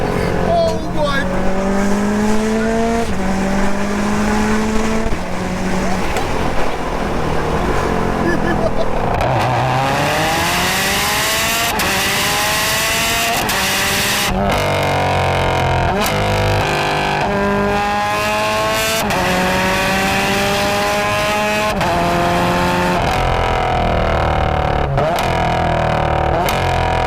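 A Prodrive P25 roars through repeated hard accelerations and gear changes on a passenger ride, its loud engine note climbing in pitch again and again with brief tire noise, while occupants talk and exclaim over it.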